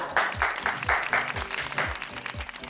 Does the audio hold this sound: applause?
yes